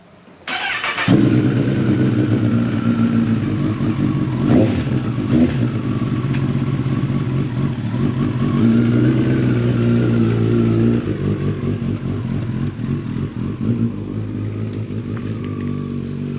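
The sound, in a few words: Kawasaki ZX10R motorcycle riding off and upshifting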